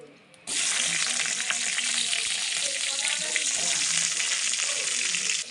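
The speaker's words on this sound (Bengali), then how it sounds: "উচ্ছেটা ভেজে দিচ্ছি লাল লাল আলু মাখে করে ভাজা" Bitter gourd and potato fry in hot oil, a loud, steady, close sizzle that starts abruptly after a quiet half second and hisses continuously with crackles until the end.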